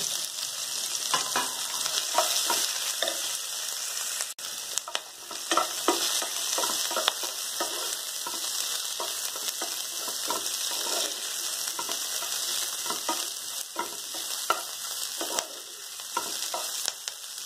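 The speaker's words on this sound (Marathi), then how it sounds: "कांदा, लसूण, आलं, कोथिंबीर आणि मिरची भाजून घेऊ।" Onion, garlic, ginger, coriander and chili roasting in a pan for a red pumpkin gravy, giving a steady close sizzle and crackle with frequent scraping stir strokes throughout, no voices.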